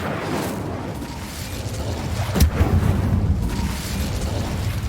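Incendio, a fire spell in Hogwarts Legacy on PS5, bursts in a sudden booming whoosh midway through, over a steady rumbling game background that carries on before and after the blast.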